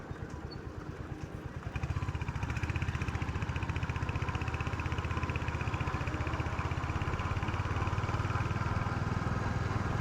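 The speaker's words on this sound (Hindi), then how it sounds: "अभी थोड़ा सा आवाज़ जो है वो आ रहा है बाइक में, स्लो होने पे घसर घसर" A Hunter 350 motorcycle engine putters at low speed, then a steady rattling chug takes over, loud and close, with a rhythmic mechanical clatter throughout as the bike rattles when slow.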